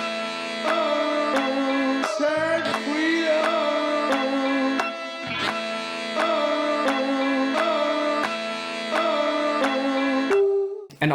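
A chopped-up sample rearranged into a new melody plays as steady looping tonal phrases with rich harmonic chords, repeating in regular bars at a moderate level with brief gaps and a short transitional blip near the end.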